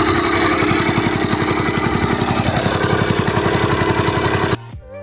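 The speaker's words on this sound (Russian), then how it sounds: "Теперь подсыпаем отсевками и уже выводим на нужный размер виброплитой." A vibratory plate compactor levels crushed stone screenings over a foundation base at a construction site in Zelenogorsk, Krasnoyarsk Krai. It makes a loud, steady, rapidly pulsing engine thump up close, then cuts off abruptly near the end.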